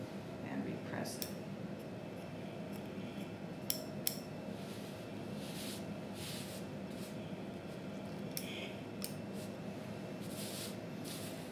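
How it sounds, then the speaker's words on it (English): Scissors trim the frayed edge of a fabric piece for a garment accessory, giving a series of quick, light snips and clicks at close range over a steady background hiss, with a voice audible at times. "trimming the frays on this edge"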